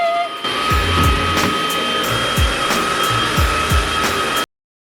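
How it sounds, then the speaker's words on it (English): A borrowed cordless vacuum cleaner runs across apartment floors with a steady, loud motor whine and airy rush, while low thumps recur as the head is pushed back and forth, then it cuts off abruptly. "It's time to do the floors. I have this vacuum that I'm borrowing because I don't have my own vacuum, but it's cordless."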